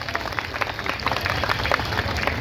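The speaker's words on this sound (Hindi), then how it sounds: "ताली बजाइए हमारी देश की बेटी के लिए।" An audience at a tribal unity gathering in Ranchi, Jharkhand applauds for President Droupadi Murmu, a dense, fairly loud burst of many hands clapping continuously without pause.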